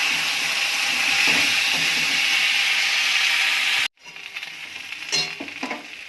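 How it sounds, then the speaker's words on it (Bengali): Pointed gourd, green papaya and raw banana fry in a pan with cumin and bay leaf, giving a loud, steady sizzle that cuts off abruptly and is followed by softer crackling and stirring. "দিয়ে তাকে ভালো করে ভেজে নেব"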